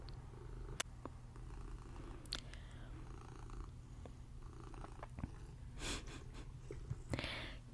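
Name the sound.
cat purring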